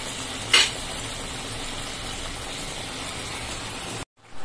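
Fish curry simmers and sizzles steadily in a pan, a close continuous bubbling hiss with a brief clink of a utensil near the start.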